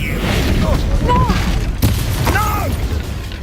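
A Confringo blasting spell in Hogwarts Legacy lands as a single short booming explosion amid whooshing spell effects and in-game voices.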